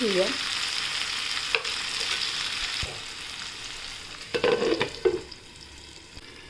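Tomatoes sauté in a pan for a lima bean curry: a soft, continuous sizzle with intermittent stirring clatter from a spoon, close and fairly quiet.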